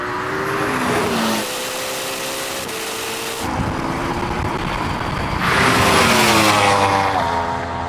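A Porsche Taycan Turbo GT accelerating hard in a drag race against a Ferrari SF90 and a Yamaha R1M: loud, close rising motor whine with rushing wind noise, and a second surge of rising tones late on.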